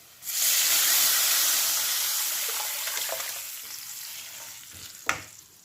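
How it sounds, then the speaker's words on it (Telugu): Rasam poured into a hot garlic and turmeric tempering sets off a loud burst of sizzling and hissing that slowly eases, with a few small clinks near the end. "ఇప్పుడు రసం పోయాలి"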